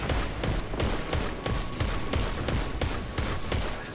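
Rapid, dense gunfire during a Destiny 2 Nightfall mission, a steady fusillade of sharp shots firing in quick succession throughout at moderate distance.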